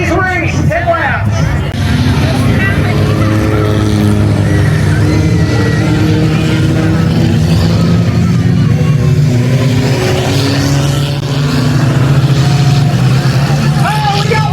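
Stock cars roar around a short oval at South Bend Motor Speedway during a 10-lap ladies race, a steady, loud engine drone with revving swells under crowd babble and a commentator's voice.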